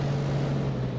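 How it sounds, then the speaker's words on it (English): A Cessna CT210 aircraft engine revving in a flight simulator, a steady droning hum with a strong low tone and airy noise, continuous and alone. "we can easily rev the engine"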